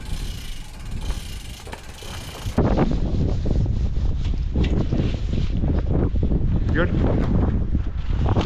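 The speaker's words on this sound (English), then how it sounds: "The wind started to pick up early" High wind gusts buffet the microphone 25 metres up during a storm, a loud roaring rumble with rattling and creaking mechanical noises, the level jumping sharply partway through and staying strong.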